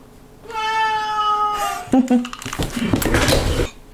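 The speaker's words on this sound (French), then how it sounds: "vous allez entendre le cri du chat" A kitten meows loudly in a long, drawn-out cry up close, followed by clattering and rustling noises.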